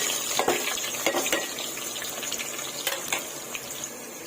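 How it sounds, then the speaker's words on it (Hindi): Chopped onions fry in half a cup of hot oil for chicken korma, a steady bright sizzle with occasional stirring scrapes and clacks, close and continuous, with no talking. "आधे कप तेल है, इसमें हम प्याज फ्राई करेंगे।"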